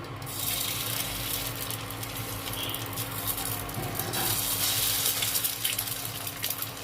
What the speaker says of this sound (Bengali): ডিম ভেজে নেব।